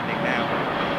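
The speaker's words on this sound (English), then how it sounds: "Neo landing now" An Airbus Neo airliner comes in to land, giving off a steady, broad roar of jet engines that fills the short stretch at a consistent loudness. A voice talks over it.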